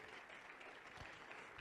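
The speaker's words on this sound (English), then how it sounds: "Round of applause." Applause from a fintech summit audience after a conference session, a brief steady patter of clapping from a large crowd that stays at moderate level throughout.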